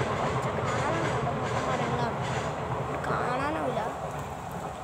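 A train rumbles steadily past close to Chandera railway station, its continuous low roar and faint clatter filling the scene at a fairly even loudness throughout.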